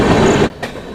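Passenger train on the Ranchi to Delhi route rolling slowly along the rails, a close rumbling clatter that cuts out abruptly midway, leaving a short lull before a softer rumble resumes.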